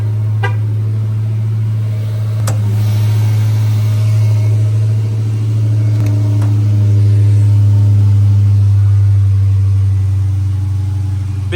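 Muscle car idling after starting up to warm, a deep steady rumble throughout, with a couple of sharp clicks and a gradual swell in loudness partway through; no talking.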